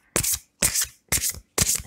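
A chakra oracle deck is shuffled by hand for a card reading, in four crisp riffling bursts with short pauses between them, close and clear.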